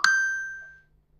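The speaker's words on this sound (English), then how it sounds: "Apologies for my phone pinging." A single bright electronic phone notification ping rings out and fades away within a second, clear and close with nothing else around it.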